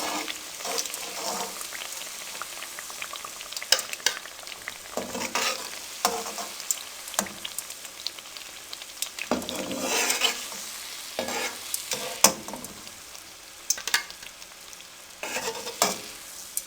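Chapli kebabs fry in hot oil with a steady crackling sizzle, broken by occasional stirring clatter and sharper pops, heard close with no talk.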